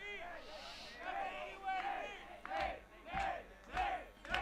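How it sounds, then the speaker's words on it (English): Baseball crowd in the stands at a high school game, rhythmic chanting of a player's name rising in repeated swells, loud and close, with general crowd noise underneath. "the fans in the stands are picking up on the Nate chants"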